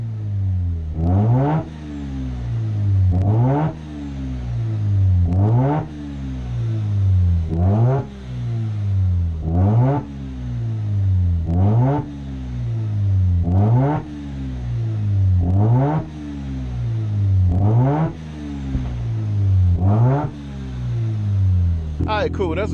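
A rotary-engine car revs hard again and again, about ten rising blips spaced a couple of seconds apart, each climbing sharply then dropping back to a lumpy, choppy idle, loud and close with no talk.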